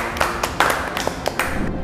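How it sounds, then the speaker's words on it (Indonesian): A studio audience at a cooking competition show claps for a contestant in a brief, dense patter of hand claps, fairly close and steady for under two seconds, with no talking over it. "Kita berikan tepuk tangan dulu untuk Dinda."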